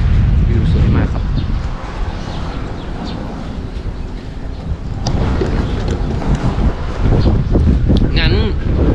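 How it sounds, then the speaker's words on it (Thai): Strong wind gusting across the upper floor of a traditional Thai wooden house overlooking rice fields, roaring and buffeting the microphone loudly throughout while someone talks over it. "ลมเย็น ๆด้านบนนี้เย็นมาก"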